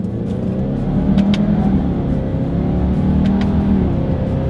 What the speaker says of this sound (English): let's do a quick little acceleration test with the paddle shifters, and let's see how quickly they're going to react for us here